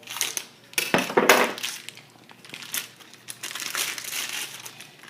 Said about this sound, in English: the first thing I'm going to do is cut the plastic